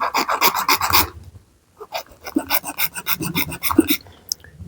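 A small hand file rasps against the sharp metal edge of a tent clip in short, rapid back-and-forth strokes, close and crisp, with a brief pause before a second burst of filing.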